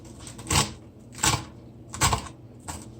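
Four sharp, evenly spaced knife chops through callaloo leaves on a cutting board, crisp and close with brief quiet gaps between strokes, no talking.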